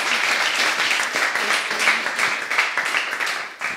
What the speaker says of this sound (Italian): Un applauso allora ad Alessandra.